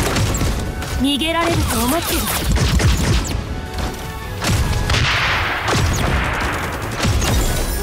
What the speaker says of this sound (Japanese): 銃声よ、気を引き締めて。